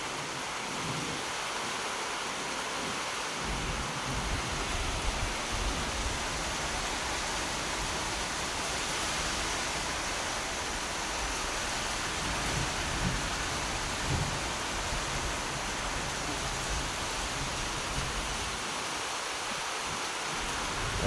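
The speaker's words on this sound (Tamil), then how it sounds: "அப்படியே அருமையாக மழை பெய்யுது பாருங்கள்." Heavy rain pours steadily over a rooftop view of a town with a cement factory, a dense continuous hiss with low rolling thunder rumbling underneath throughout, no voices.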